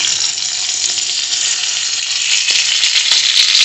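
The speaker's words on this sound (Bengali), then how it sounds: "এই যে দেখো কড়াইয়ের মধ্যে বেগুন ভাজা করতে দিয়েছি" Eggplant slices fry in oil in a wok, giving a loud, steady, close sizzle that runs unbroken throughout with no talking.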